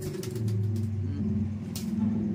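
Pet pigeons coo in low, steady overlapping calls close by, a continuous murmuring drone running the whole time with brief higher rustles above it.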